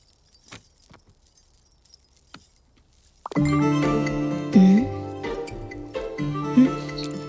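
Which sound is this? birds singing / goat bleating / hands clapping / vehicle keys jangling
vehicle keys jangling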